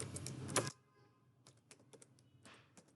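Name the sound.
typing on a computer keyboard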